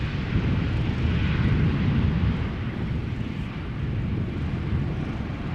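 An airliner on flight 1224 from Paris Charles de Gaulle lands at Amsterdam Schiphol Airport. Its jet engines give a loud, steady, broadband roar and low rumble that lasts throughout, with no one talking.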